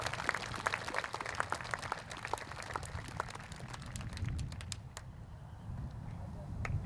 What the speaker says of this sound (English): Join me in one more round of applause of these guests in recognition of their service for the Sinton ISD students.